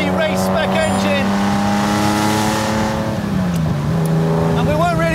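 TVR sports car with a race-spec engine revving loudly, a sustained throaty engine note that rises and falls as the car accelerates past, with someone talking over it.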